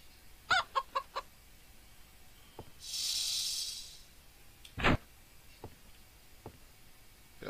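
Chickens in the video game Outlaws cluck in a quick run of four short calls, then a single sharper squawk, with a brief shimmering game tone between them, set against a quiet background.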